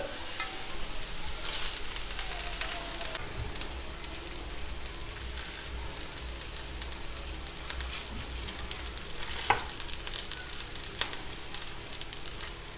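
Semolina meatballs, Ödemiş köfte, fry in a hot pan with a steady close sizzle and crackle and a few sharp pops, with no talking.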